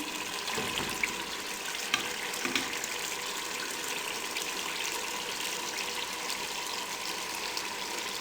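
Boneless chicken, boiled beforehand, sizzles with mixed vegetables in a pan with a steady, close frying hiss throughout and a few faint clicks of stirring. No one speaks.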